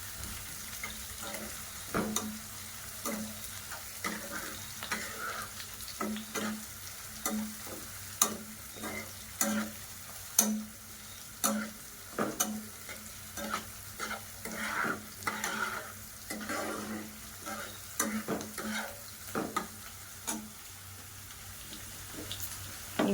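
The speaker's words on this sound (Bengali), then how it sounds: "দুই মিনিট ভেজে আমি টমেটোগুলো দিয়ে দেব।" Leftover rice and vegetables fry in a pan for veg fried rice, an even sizzle punctuated by frequent sharp scrapes and knocks of a spatula stirring, all close and moderately loud.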